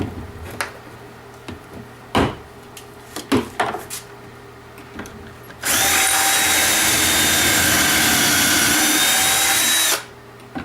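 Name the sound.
drilling into wood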